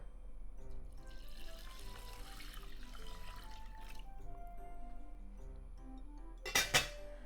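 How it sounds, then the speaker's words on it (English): Water poured into a pot holding two cups of rice, a steady running splash with faint clinks, ending in a couple of louder knocks as the pot or cup is set down. "so I'm adding 2 cups of water"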